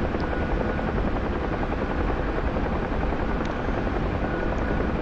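Huey helicopter in the DCS VR flight simulator, a loud, continuous rotor and turbine drone with dense low thumping chop, steady throughout with no speech.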